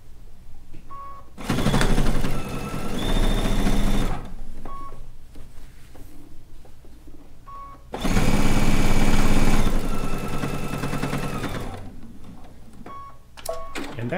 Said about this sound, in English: We're almost got this part sewed down.